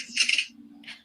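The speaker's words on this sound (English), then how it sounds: "They're saying that noise is a gun being racked" A short metallic clack and slide, then a lingering low ring and a second lighter click, like a gun being racked nearby.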